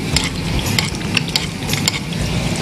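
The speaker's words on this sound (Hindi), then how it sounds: "ये ऐसे एक और अंडा फ्राई हो रहा है" An egg fries in a pan while American chop suey is being cooked, giving a steady close sizzle and crackle with occasional sharp clinks and scrapes of a utensil against the pan.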